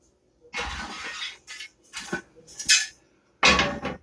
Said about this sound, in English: Now I'm going to get out my griddle.